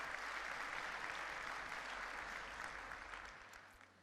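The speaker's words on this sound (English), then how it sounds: "I think that feature deserves a huge round of applause" A conference keynote audience on Microsoft 365 applauds, a broad wash of many hands clapping that holds steady and then tapers off toward the end.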